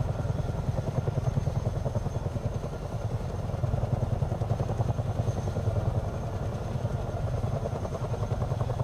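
Rotor thump and turbine drone of a Miltech CH-47 Chinook tandem-rotor helicopter in the MSFS 2024 flight simulator, loud and steady throughout with a rapid, even beating pulse and no talk.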